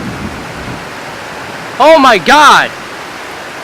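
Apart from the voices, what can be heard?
thunderstorm with heavy rain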